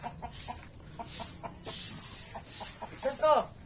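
Chickens cluck in short repeated bursts close by, with a higher squawk near the end and faint background noise.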